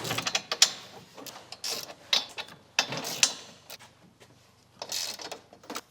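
Ratchet wrench loosening 15 mm nuts on the strut brace of a BMW G87 M2: rapid clicking ratchet runs in several bursts with brief pauses, close up and fairly clear, with no talking.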